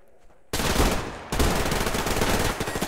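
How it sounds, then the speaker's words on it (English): Gunfire in the online shooter game Survarium: a loud, dense burst of rapid automatic shots starting abruptly, pausing briefly, then continuing in a sustained close volley. "And there's a gunshot."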